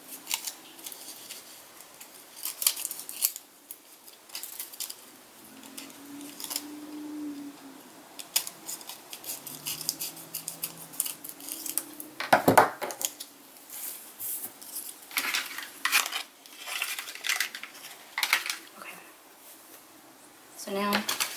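Scissors snip through craft paper in a series of short, close cuts scattered across a papercraft tabletop session, with paper handling rustles between them and a voice talking over much of it.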